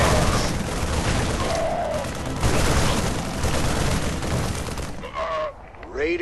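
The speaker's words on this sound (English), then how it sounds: "They're shooting civilians." Rapid gunfire from soldiers shooting civilians during a StarCraft 2 mission, sustained bursts and booms filling the clip, with voices talking over it and game sounds near the end.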